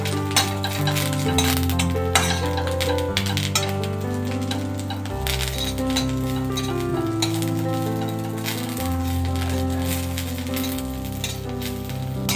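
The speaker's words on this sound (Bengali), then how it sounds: "এই যে নিম পাতাটা ভাজা করে নিচ্ছি" Neem leaves fry in a pan, giving a steady, close sizzle with light stirring clinks, set against continuous background music throughout.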